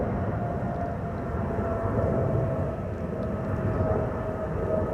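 Emirates flight 146, a passenger Boeing 777-300, takes off from Amsterdam Schiphol with a continuous heavy engine roar, close and sustained throughout.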